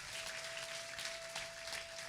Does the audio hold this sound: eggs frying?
no